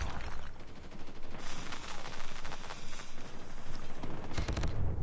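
Enemy gunfire in the shooter game COD Mobile: rapid, sustained bursts of automatic fire crackle continuously and loudly, ending in a heavier, sharp blast near the end, with no talk over it.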